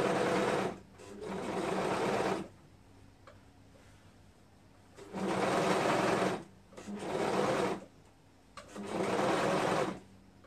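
Sewing machine top stitching a color-blocked tunic, running in four quick bursts of rapid mechanical stitching separated by short pauses, fairly close and clear with no talk.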